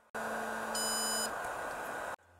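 Walksnail HD FPV goggles restarting emit a steady electronic tone lasting about two seconds, with a brief higher beep layered in partway through, then cutting off abruptly.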